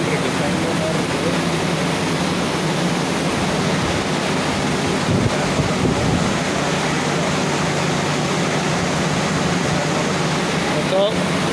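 Induced-draft air-conditioning cooling tower with fan motors on top runs in a steady, loud whooshing roar, with a constant rush of air and water that never changes.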